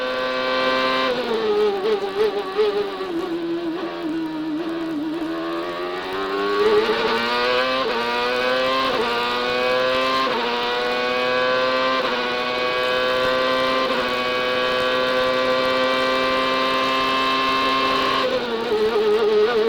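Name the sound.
CART Champ Car racing engine on pole-winning qualifying lap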